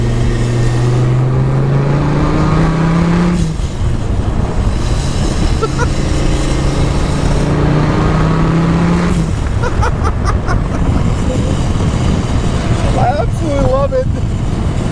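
A boosted 1,200-horsepower Dodge Viper accelerates hard, its loud engine note rising and falling through repeated pulls while people talk and shout over it inside the cabin.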